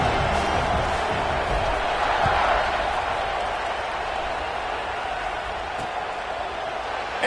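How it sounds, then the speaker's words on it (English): A large football stadium crowd roars steadily throughout, a dense wash of cheering and noise with no pauses. "these fans, they get something to cheer about"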